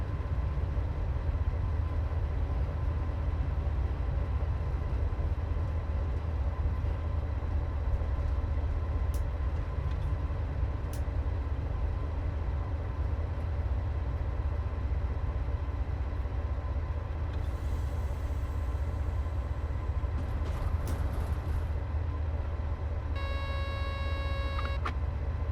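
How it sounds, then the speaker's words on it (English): In the Train Sim World 4 video game, a freight train on the Maintalbahn line rumbles steadily as it brakes toward a stop after clearing a junction. A low continuous rolling drone is overlaid by brief squeal and hiss tones near the end. "Bring this train to a complete stop by applying an appropriate amount of brake force with the direct brake."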